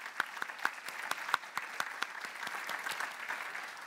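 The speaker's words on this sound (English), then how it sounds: "Please big applause for" Audience applause at the close of a panel discussion on digitalisation in insurance, a fairly quiet, steady patter of many hands with a few sharper claps standing out, lasting throughout without voices.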